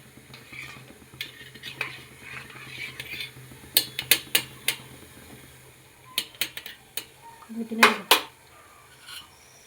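A spoon stirs a mixture of kuppaimeni juice and tamarind soap in a pot, making irregular close-up clinks and scrapes against the metal, with a few sharper knocks scattered through a quiet background.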